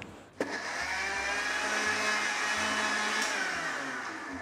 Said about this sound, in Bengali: এবারে ঢাকনা দিয়ে আনারসটাকে ব্লেন্ড করে নিব।